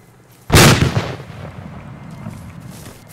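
A grenade bursts in a World War trench battle game, one loud sharp blast followed by a rumbling decay and low background din.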